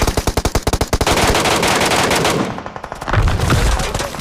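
Automatic gunfire in a PUBG-style battle royale game, a rapid close burst of shots for about a second, followed by continued loud crackling weapon fire and blasts.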